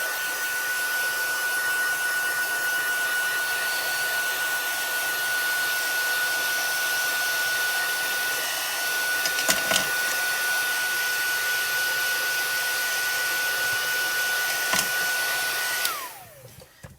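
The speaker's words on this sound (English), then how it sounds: "I'm going to heat set the ink just to make sure that it is completely dry" A heat tool blows continuously to dry stamped ink, a loud, steady fan-like whir with a high whine that holds for about sixteen seconds before abruptly powering down.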